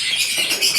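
A short, bright bird call rings out close by, a high chirping sound lasting under a second with no talking.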